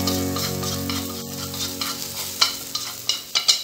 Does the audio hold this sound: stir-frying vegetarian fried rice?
yes